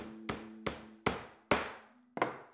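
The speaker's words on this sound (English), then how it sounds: "I'm gonna hammer these guys in" Wooden bars of a circular canvas stretcher are hammered together, giving five sharp, loud knocks spaced about half a second apart. Each strike rings briefly before it fades. No one speaks.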